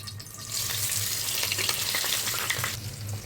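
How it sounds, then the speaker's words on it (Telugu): Boiled egg pieces fry in hot oil with a steady, loud, crackling sizzle that holds throughout, broken by a few brief pops and spatters. "ఇప్పుడు కోడిగుడ్డు ముక్కల్ని వేసుకొని ఫ్రై చేసుకోవాలి."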